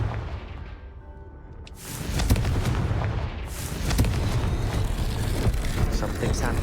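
Confringo blasting spell explosion in Hogwarts Legacy, a sudden loud burst followed by sustained rumbling blasts and crackling impacts, with a second boom a moment later amid game music and effects.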